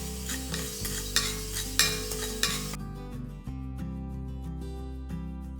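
Coriander seeds, peppercorns and cumin dry roast in a pan for a jackfruit fry, giving a steady close sizzle with scraping stirs and spoon taps on the pan, and no talking.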